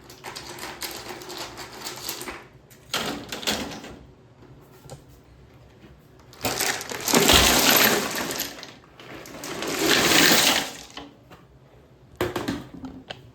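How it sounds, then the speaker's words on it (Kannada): Stones being placed and spread while building a mini forest river, heard as bursts of scraping, rattling clatter that come and go between quieter gaps, loud and close. "ಸೊ ಗೈಸ್ ಈಗ ಕಲ್ಲು ಹಾಕೋತೀನಿ."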